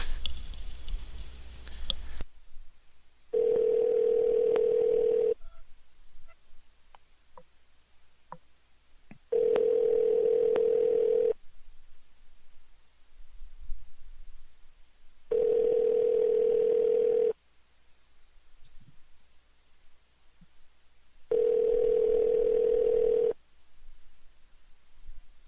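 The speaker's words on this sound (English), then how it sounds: "See if I can play the dialing music fast enough." Telephone dial tone played on a live stream, a steady tone sounding in four evenly spaced two-second bursts separated by quiet gaps with faint clicks and low background noise.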